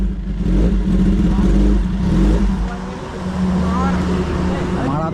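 A motorbike engine revs loudly up close during a ride, its deep throaty rumble rising and falling over steady road noise, with a voice talking over it.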